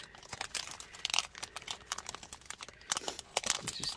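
Vellum stickers in their plastic packaging being handled and pulled out, giving soft, close crinkling and rustling with a few sharper crackles spread over a few seconds.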